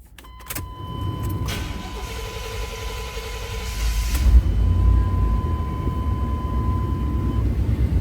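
A 1988 Chevrolet Silverado 1500 4x4 regular cab pickup cranks and starts, then its engine settles into a steady, close, rumbling idle. A faint electronic chime rings through the first several seconds.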